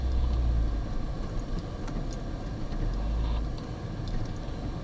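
A car engine runs with a steady low rumble close by as the car is moved, swelling slightly at moments, with no voices over it.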